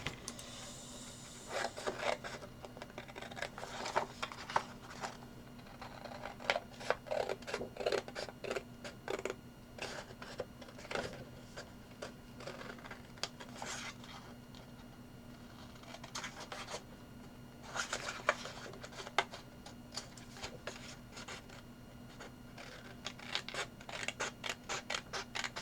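Scissors cutting out a paper card for a spinning card craft, quiet repeated snips and rustles coming in clusters over a soft steady background hum.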